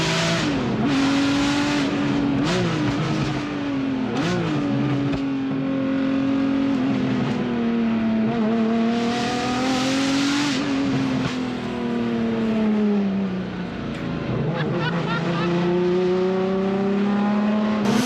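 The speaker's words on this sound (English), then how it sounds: "I think the highlight of that was the straight pipe Ferrari F50. It's like 90s F1 car on the road." A straight-piped Ferrari F50 screams at high revs while driving, its loud, raw engine note rising and falling through repeated gear changes and throttle lifts, continuous and close throughout with no talking.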